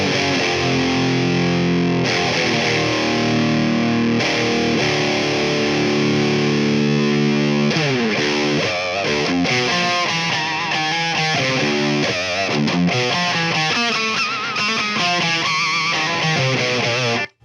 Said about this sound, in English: it sounds more like a distortion pedal than the last guy if we crank the drive in the clean input